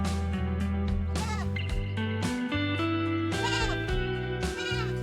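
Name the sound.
goats bleating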